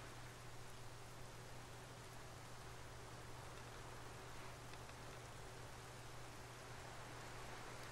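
Rain falling in the video game Bound, a steady, even wash of soft hiss that holds at the same faint level throughout, with no voices over it.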